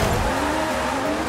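Modern supercar in Forza Horizon 5 racing on the Colossus, a steady loud engine drone with tyre noise, constant and close with no pauses.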